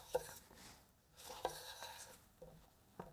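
A kitchen knife slices through food on a cutting board, with four faint, separate cuts spaced about a second apart in a quiet room.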